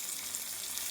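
Mustard seeds crackle and pop in hot oil for a kothimeera pachadi tempering, a brief, faint, steady hiss with tiny crackles.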